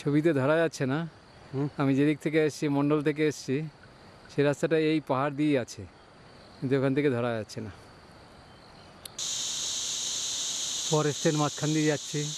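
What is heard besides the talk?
crickets chirping in a Himalayan forest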